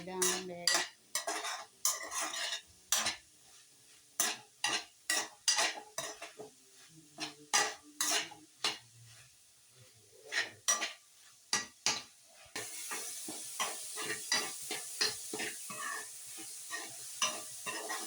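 Soybeans fry in a pan while a metal spoon stirs and scrapes them, giving repeated close clanks and scraping strokes over a low sizzle that grows denser toward the end.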